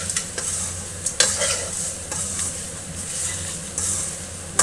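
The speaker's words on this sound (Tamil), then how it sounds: "நம்ம எண்ணெயில் போட்டு அந்த மசாலாலாம் மிக்ஸ் ஆகிற மாதிரி ஒரு கிண்டி விடுறோம்" A spatula stirs masala frying in oil in a pan for an egg and capsicum dish, with repeated close scrapes and taps over a steady sizzle.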